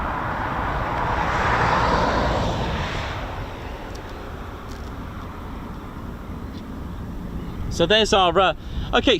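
An F-35B stealth jet at an RAF air base, its engine roar swelling broad and loud then ebbing to a distant rumble ahead of a short takeoff, with a person talking briefly over it at the end.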